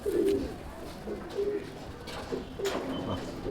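Kaldoma pigeons, including a female bird, coo in repeated short throaty phrases at steady intervals, close and fairly clear over a low background hum.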